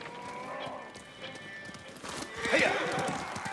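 Horse from the Ghost of Tsushima video game, with a close whinny and hooves clip-clopping across the clip, and a louder neigh near the middle.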